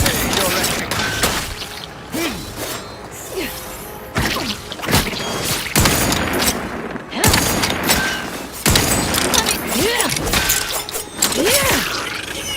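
Gunfire in the video game The Outer Worlds 2 comes in rapid bursts of shots with booming impacts and clattering mechanical sounds, loud and close, while a voice talks over the fighting.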